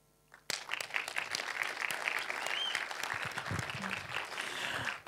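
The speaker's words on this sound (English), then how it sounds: "Hit the round of applause." Sustained applause from a crowd at a Swift Heroes 2025 conference event, starting abruptly after a brief quiet moment and continuing steadily as a dense, even wash of clapping.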